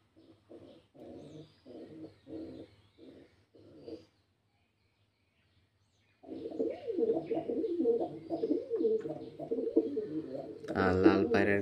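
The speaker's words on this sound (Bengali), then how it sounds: "আর লাল পায়রার কিন্তু ডাক" Red pigeons in a home loft cooing in a series of soft, rhythmic calls at close range, pausing briefly before a louder, busier stretch of cooing and fluttering near the end.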